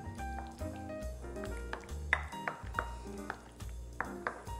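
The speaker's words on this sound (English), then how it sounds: "now we're gonna stir this together" Spoon stirring blue cheese dressing with black pepper and salt in a bowl, light clinks and taps against the bowl in an irregular rhythm, with soft pinging tones and quiet musical notes beneath.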